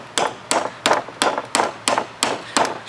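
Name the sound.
hammer tapping screwdriver as chisel through bushing sleeve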